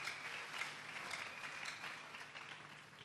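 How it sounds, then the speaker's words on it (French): A church congregation applauding during a sermon, a steady wash of many hands clapping at moderate distance, sustained throughout and slowly thinning toward the end. "acclamons très fort pour eux"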